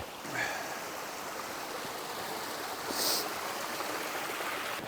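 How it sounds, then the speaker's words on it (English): A mountain creek rushes steadily at a trail crossing during a winter hike on a snowy 9,000-foot peak, a continuous close wash of flowing water with no talking. "All right, got our first creek crossing."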